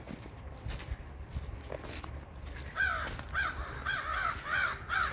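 Crows caw repeatedly in the second half, harsh calls in short bursts over outdoor background noise and faint rustling.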